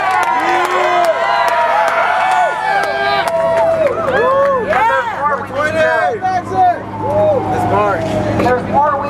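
A crowd at an outdoor medical cannabis rally cheers and whoops steadily, with many overlapping shouts and rising calls over a dense babble of voices.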